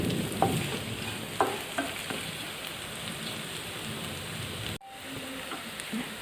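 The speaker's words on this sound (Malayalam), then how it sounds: "ഇനി ഇതെല്ലാം കൂടി നന്നായിട്ടൊന്ന് വഴന്ന് വരട്ടെ" Coconut pieces, onion, garlic and ginger sauté in hot oil for a Kerala-style beef roast, giving a soft continuous sizzle broken by a few scrapes of stirring and a brief clunk near the end.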